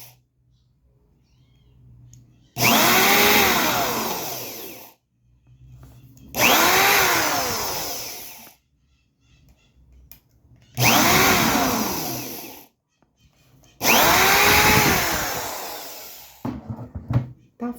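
A power drill bores holes through a notebook in four separate whining bursts of about two seconds each, loud and close, with quiet gaps between them and a short fifth burst at the end.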